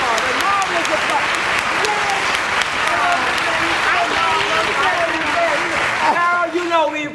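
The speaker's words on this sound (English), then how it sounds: "The marvelous applause" A large Broadway theatre audience keeps applauding in a loud, continuous wave of clapping, while voices sing or talk over it on stage.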